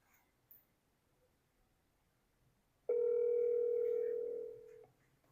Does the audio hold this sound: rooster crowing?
no